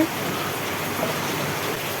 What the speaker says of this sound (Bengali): বাইরে কিন্তু প্রচুর বৃষ্টি নেমেছে